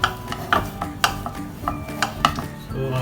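Rissois dough for a Goan chorizo snack stirred in a pan over a gas flame, with a spoon scraping and knocking against the pan in a loose rhythm of about six distinct clacks amid softer scraping.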